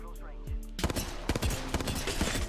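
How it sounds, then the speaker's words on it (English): Rapid bursts of gunfire in the battle royale game Apex Legends on the King's Canyon map, a fusillade of overlapping shots rattling continuously after a quieter start, with players' voices talking over the shooting. "They're shooting the decoys."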